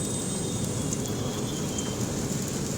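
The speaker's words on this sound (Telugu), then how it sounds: "ఫుల్ వర్షం పడుతుంది" Heavy rain pours over the Beeramguda Kaman crossroads in Hyderabad, a constant dense wash of falling water with a low rumbling undertone, steady and loud throughout, with no one speaking.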